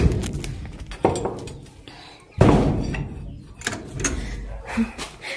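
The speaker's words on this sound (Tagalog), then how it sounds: "Sarado ko lang yung pinto." A door is pushed shut, giving several sharp thuds and knocks including one loud slam near the middle, with rustling and handling noise around them.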